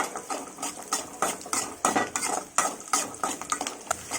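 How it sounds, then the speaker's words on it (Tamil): Peeled garlic sautéed in oil with mustard seeds for poondu kuzhambu, with a spoon scraping and clinking rhythmically against the pan over a soft sizzle. "மூணு பூண்டு நல்லா உரித்து வச்சுருக்கேன் இதிலே போட்டுக்கலாம் எண்ணெயிலே இதை நம்ம நல்லா வதக்கிக்கலாம் பூண்டை"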